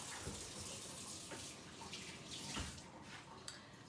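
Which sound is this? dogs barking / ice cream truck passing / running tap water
running tap water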